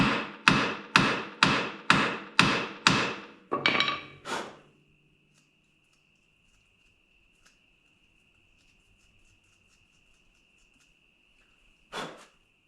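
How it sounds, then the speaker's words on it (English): About eight sharp, ringing hammer strikes beating out metal parts of a 1962 Ford F250 truck during a 4x4 conversion, in a steady rhythm, close and loud, then quiet with a faint high whine and one last clank. "Take my hammer here sometimes and beat them out"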